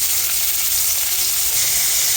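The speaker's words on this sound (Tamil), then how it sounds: "இப்போ கடாயில் ஆயில் போட்டு நம்ம தாளிச்சிக்கலாம் கடுகு சோம்பு ஜீரகம் கடலப்பருப்பு உளுத்தம்பருப்பு தாளிச்சிட்டு" Mustard seeds, fennel, cumin and lentils sizzle and crackle steadily in hot oil in a pan, loud and close, a constant bright hiss with no voices.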